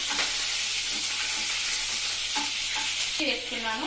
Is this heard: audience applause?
no